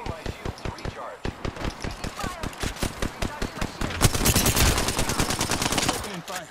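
Rapid, rhythmic automatic gunfire in a shooter video game, steady bursts of close shots that grow louder and denser toward the end, with faint talking underneath.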